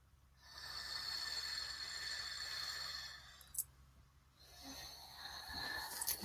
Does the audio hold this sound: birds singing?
no